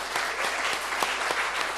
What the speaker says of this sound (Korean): 장로님들에게도 좀 감사 박수 좀 쳐주시죠